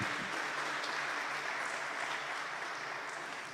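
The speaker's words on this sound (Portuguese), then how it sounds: "Pode aplaudir mais uma vez." An audience claps together in steady, sustained applause that holds even for several seconds and fades slightly at the end, with no voices over it.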